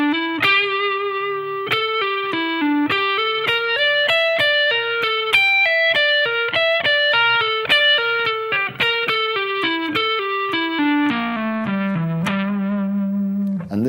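Distorted electric guitar lick built on the minor pentatonic scale with a flattened fifth, a quick run of single picked notes with effects that descends and ends on a sustained note, played alone.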